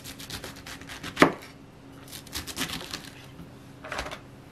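A knife cuts through a pack of golden enoki mushrooms on a board, giving a few soft taps and one sharp, louder chop, close and without talk.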